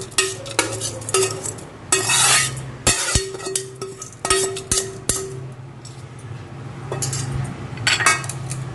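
A spoon stirs a tempering into curd rice for a festival offering, giving repeated scraping and clinking strokes against the bowl in bursts with short pauses, close and moderately loud, with no talking.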